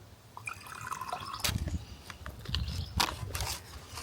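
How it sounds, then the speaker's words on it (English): Tea being poured from a pot into a cup, with a soft trickle and light drips close by, joined by a few clinks and small handling knocks. "I'm just going to pour my tea."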